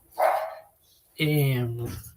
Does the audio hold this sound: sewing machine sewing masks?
no